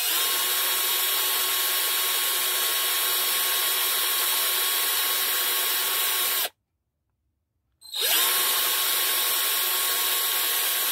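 A power drill whirs steadily while boring a pilot hole, a loud continuous high whine that stops abruptly for about a second and a half, then spins up again.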